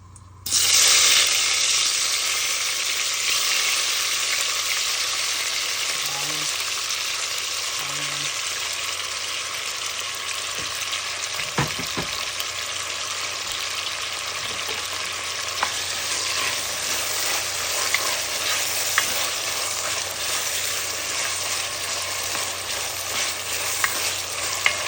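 Tomato frying in a little oil in a pan for a squash chicken curry, a continuous loud sizzle with occasional scrapes and taps of stirring throughout.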